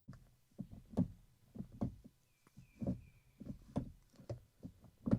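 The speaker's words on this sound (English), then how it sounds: "The Diablo SV comes with a dogleg 5-speed manual gated shifter, which sounds like this." An irregular series of sharp mechanical clicks and clunks, close up, from the dogleg 5-speed manual gated shifter of a Lamborghini Diablo SV, the metal lever snapping through the gate.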